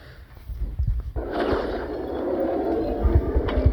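Grenade blasts and gunfire in a shooting video game come as deep, muffled thumps and a burst of rushing noise, moderately loud against a low background rumble.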